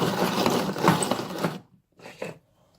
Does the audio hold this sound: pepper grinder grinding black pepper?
yes